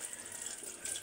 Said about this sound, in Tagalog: Hugasan ng mabuti. Hugasan.